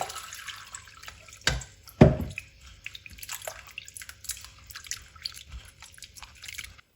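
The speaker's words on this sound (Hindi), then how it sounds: "अब इनको 2-3 पानी से धो लेंगे।" Cut potato slices are rinsed in water in a kitchen, with splashing and sloshing that comes in uneven bursts, two sharper splashes early on, then lighter drips and stirring, fairly close.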